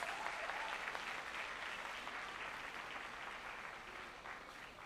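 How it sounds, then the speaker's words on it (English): A seated audience at a school valedictory service for fifth-form students gives a sustained round of applause, many hands clapping in a steady, fairly distant wash that eases off slightly toward the end. "also give yourselves a well-deserving round of applause"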